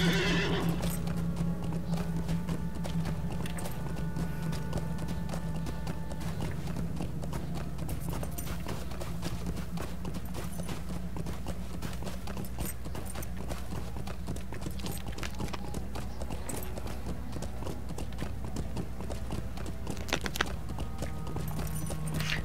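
Horse hooves crunching and cracking through ice in the game Lord of the Rings Online, a steady dense clatter running throughout alongside snorts and ambient game sound, with no talking.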